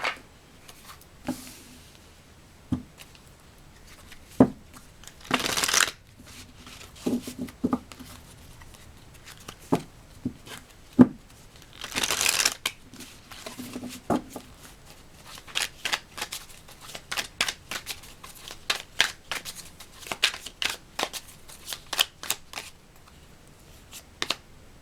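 Tarot cards shuffle close by in a quiet room, a string of soft flicks, riffles and taps, with a couple of longer riffling bursts and no talk.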